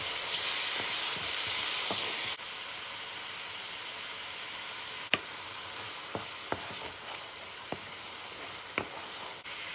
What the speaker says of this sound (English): put your tomato mixture in and give everything a good mix